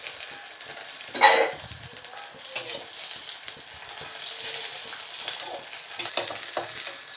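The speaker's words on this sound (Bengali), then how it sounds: "পেঁয়াজটা একটু নেড়ে তারপর ছেঁড়া কাঁচা লঙ্কাগুলো দিয়ে দেবে" Chopped onions and green chilies fry in oil with a continuous hiss while a spoon stirs them, giving one louder scrape near the start and then lighter irregular scraping and clatter.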